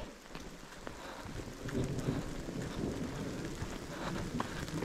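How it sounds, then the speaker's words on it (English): Steady rain from a mountain storm patters and hisses on surfaces around the listener, a fairly faint, continuous wash with scattered sharper drops and no voices. "This storm is definitely just all rain."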